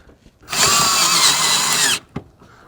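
Power drill driving a self-tapping screw while mounting a car boost gauge: a single loud whirring run of about a second and a half that stops abruptly, followed by a brief faint click.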